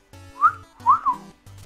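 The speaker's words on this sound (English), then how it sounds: "I heard somebody whistling me." A short whistled tune plays in the video game Shovel Knight, a few bright melodic whistle notes over a low repeating game tone, clear and close.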